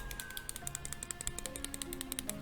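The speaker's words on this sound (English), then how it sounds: "That's me clicking my button on my pen" A drawing tablet pen's button clicked over and over, a rapid run of sharp, light clicks close to the microphone, with no speech over them.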